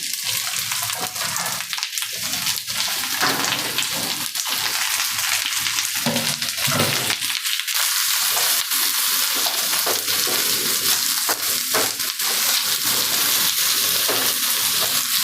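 Onions, capsicum and potato pieces frying in a pan for chilli potato, giving a loud, steady, close hiss and sizzle that runs without a break, with occasional stirring scrapes and no talk.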